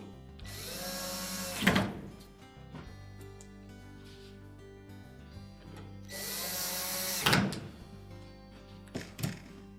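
Power driver fastening the retaining screws on a Whirlpool dryer during a thermostat replacement: two drill runs of about a second and a half each, with a short burst at the end and quiet handling clatter between them.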